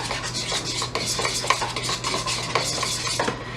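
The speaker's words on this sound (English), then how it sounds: "Stir it up." A spoon stirs food coloring into a thick cake pop mixture in a bowl, making rapid rhythmic scraping and clinking strokes close up, with no voices.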